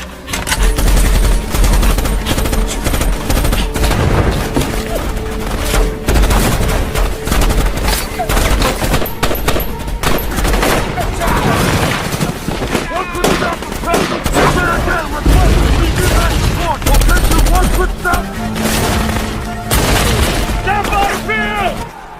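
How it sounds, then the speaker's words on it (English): Sustained machine gun covering fire and scattered gunshots in a jungle battle from the 2003 war film Tears of the Sun, loud and continuous throughout, dense and layered with bursts, booms and faint shouting mixed in. "Lay down, cover fire for Red on my mark"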